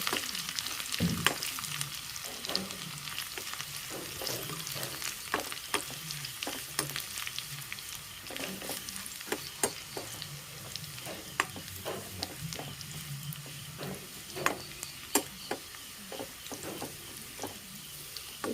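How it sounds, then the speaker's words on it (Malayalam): Garlic fries in hot oil in a pan, turning golden, with a steady close sizzle broken by frequent scraping and clicking stirs throughout; no one speaks. "ഇനി ഇതിനകത്തോട്ട് വെളുത്തുള്ളി ഇട്ട് കൊടുക്കുക വെളുത്തുള്ളി നന്നായിട്ട് മൂക്കുന്നവരെ ഒരു ഗോൾഡൻ കളർ ആവുന്നവരെ ഇതുപോലെ ചൂടാക്കി എടുക്കാം"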